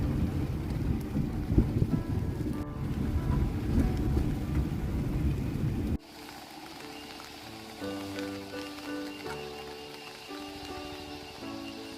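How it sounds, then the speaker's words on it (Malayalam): Rain beginning to fall over a Wayanad farming village under heavy, dark rain clouds: a dense, steady hiss of drops close by that cuts off sharply midway, leaving quieter outdoor ambience with faint tonal sounds. "കറക്റ്റായിട്ട് മഴ തുള്ളിടാൻ തുടങ്ങി നല്ല മഴക്കാർ മൂടിയിട്ടുണ്ട്"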